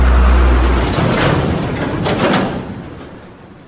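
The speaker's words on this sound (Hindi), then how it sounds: "ट्रक। गुड।" A loud, close truck gives a deep engine rumble with a hiss of air brakes, then fades over a few seconds.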